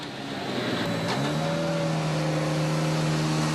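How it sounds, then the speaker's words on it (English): A WRC rally car at full throttle on a stage of the 2011 Jordan Rally, its engine droning loud and steady as the pitch climbs through a gear, with no talking. "A cracking drive from Ogier in Jordan River"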